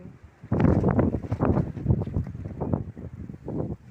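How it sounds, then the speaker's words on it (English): Evening wind buffeting an outdoor microphone in Torrevieja, loud irregular gusts rumbling in bursts for several seconds with no talk. "Still quite a nice evening, apart from the wind."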